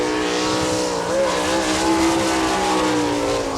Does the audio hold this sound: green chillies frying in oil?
no